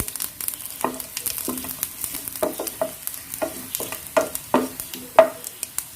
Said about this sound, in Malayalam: ആ എടുത്ത് വെച്ചിട്ടുള്ള ഉണക്കമുളക് ചേർക്കുകയാണ്.